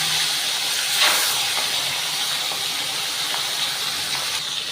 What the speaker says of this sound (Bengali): মাছের মাথাগুলো লবণ হলুদ মাখিয়ে এবারে মাছের মাথাগুলো আমি ভেজে নিচ্ছি